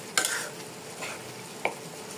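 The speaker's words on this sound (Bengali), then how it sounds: "এই জন্য আমি পেঁয়াজের সাথে ভেজে নিচ্ছি আপুরা।" Onions fried with cardamom, cinnamon and bay leaf for a beef curry sizzle quietly while a spoon stirs them, a soft steady hiss broken by about three scraping strokes, close and fairly faint with no talking.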